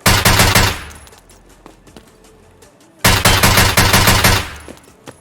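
Automatic gunfire from a weapon in the Escape from Tarkov shooter game, two loud rapid bursts about three seconds apart with a quieter gap between them.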